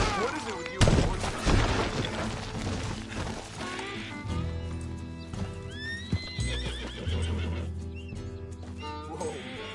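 Hooves clip-clop at a gallop while a horse neighs and whinnies in a Western open-world video game, with music and sporadic gunfire, and a voice speaking briefly over it.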